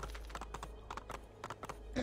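Horse hooves clip-clop in an uneven rhythm in the video game Assassin's Creed 2, fairly quiet, with a low steady hum underneath.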